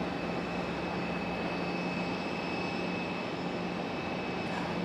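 An American Airlines jet in Air Cal special livery at Raleigh-Durham International at night, a steady, continuous engine roar holding at moderate distance with a constant high whine on top, with no voices.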